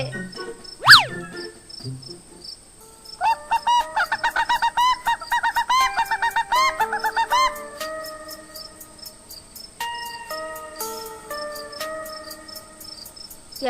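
Cartoon night scene: a rooster-like squawk opens, then a steady rapid pulsing of crickets and chirping insects fills the air with brief clucking bursts from chickens.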